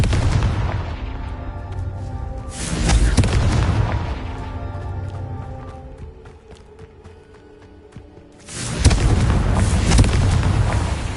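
Confringo spell explosions in Hogwarts Legacy, two loud booming blasts several seconds apart with ringing crackle and rumble between them, no talk.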